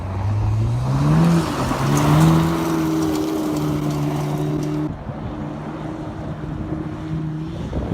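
A Mitsubishi Evo X or Volkswagen Golf R engine hums steadily and shifts pitch as it revs on downshifts through gear changes, with wind rushing past the microphone.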